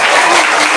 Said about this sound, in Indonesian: Tepuk tangan dulu yang gak takut.